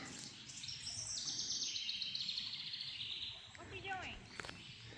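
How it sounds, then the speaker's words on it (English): High, thin bird chirps and twitters in a cove on Lake Carlton, heard from a kayak, carry over steady outdoor rustle and background noise, moderately faint and continuous. "You can hear the birds are chirping."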